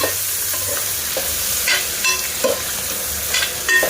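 Chicken sizzles in a pan while a spoon stirs it, a constant bright hiss with scraping strokes and occasional clinks against the pan, close and loud with no talking.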